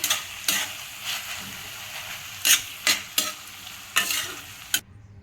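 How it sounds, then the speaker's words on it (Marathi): Grated coconut is being stirred in a hot pan as part of a fenugreek (methi) vegetable dish, giving a soft steady sizzle broken by several sharp spoon scrapes and knocks, and it ends abruptly. "आता आपल्याला त्याच्यामध्ये हा किसून घेतलेलं खोबरं टाकायचं आहे चांगलं परतून घ्यायचं एक ते दोन मिनिट"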